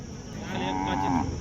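A bull lows loudly and close at a busy cattle market in Bodhegaon, its long sustained moo rising over a steady murmur of crowd and animal noise.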